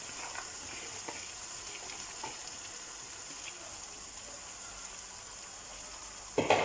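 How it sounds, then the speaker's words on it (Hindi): Okra sizzles on high heat in a spiced onion masala, a steady, moderately loud frying hiss with faint stirring clicks and a brief clatter at the very end, no voices. "भिंडी ऐड करके हम तेज़ आंच पर इसको फ्राई करेंगे 2 से 3 मिनट।"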